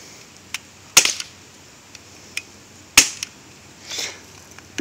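Crosman 1911 CO2-powered BB pistol firing as the gas runs low, two sharp loud cracks about two seconds apart, with fainter clicks and a soft hiss between them in a quiet outdoor setting.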